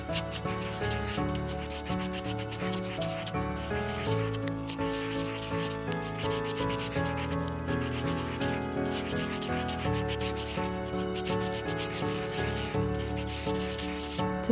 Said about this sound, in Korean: 1000번 사포로 마무리 해줄게요